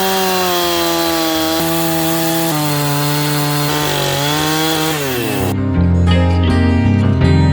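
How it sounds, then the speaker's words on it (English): A chainsaw cuts through a log for building log stairs, its engine whining loud and close with pitch shifts as the chain bites into the wood, then settles into a harsher note near the end, with no talk. "get the chainsaw fired up and give it a try"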